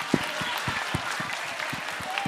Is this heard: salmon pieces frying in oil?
no